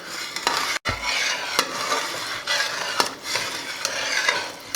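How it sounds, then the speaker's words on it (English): A spoon stirs a sticky almond caramel mixture in a pot on the stove, giving a steady, close scraping swish with faint sizzling and occasional sharp clicks against the pot, with no voices. "Just still stirring."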